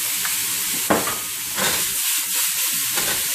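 Ham pieces sizzling in a hot stir-fry pan for a cheap Chinese-style stir fry, a loud continuous hiss with brief bursts as the meat is stirred.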